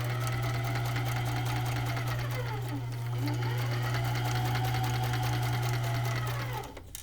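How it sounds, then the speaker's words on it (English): A sewing machine stitching a pocket onto the front of a bag runs in a continuous close whirring hum, slowing briefly midway before stopping near the end. "I'm going to back stitch over it a couple times to reinforce that corner"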